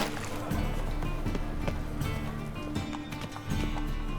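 Steady clip-clop of Roach's hooves as Geralt rides in The Witcher 3, a continuous rhythmic trot over a busy background of game ambience.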